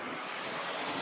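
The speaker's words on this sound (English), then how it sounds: "We've seen about 45 mile an hour sustained and 78 to 80 mile an hour gusts of wind." Hurricane Helene wind gusting at around 78 to 80 mph with 45 mph sustained winds, a loud, steady roar of rushing air buffeting the microphone throughout a single second.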